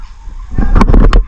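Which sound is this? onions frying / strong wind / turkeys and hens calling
turkeys and hens calling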